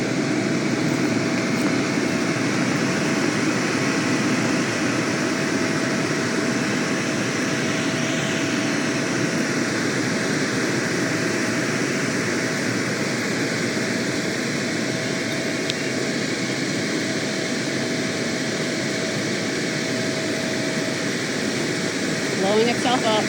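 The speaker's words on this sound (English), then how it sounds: "now that it's blown up, you keep the blower on" An electric blower inflates a Mega Tornado Twist inflatable water slide, giving a steady, even roar with a faint constant hum that runs unbroken throughout.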